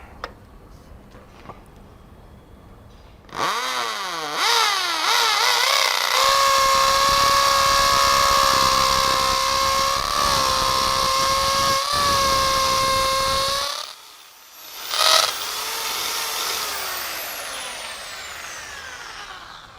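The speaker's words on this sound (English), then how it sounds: "So we drill a 8 mm hole and then fix the anchor." A Bosch GSB 10 RE corded 500 W drill in hammer mode bores an 8 mm hole, a loud steady whining drone held for about ten seconds, then cut off, with a brief restart burst and a winding-down tail.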